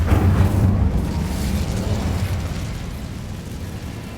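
Casting the Incendio fire spell in Hogwarts Legacy sets off a loud, deep whoosh and rumble of flame that starts strong and rolls on steadily without a break.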